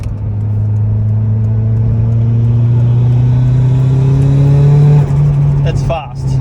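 A car fitted with a Walbro fuel pump accelerates hard from inside the cabin, its engine drone climbing steadily in pitch over several seconds before lifting off and settling, with people talking near the end.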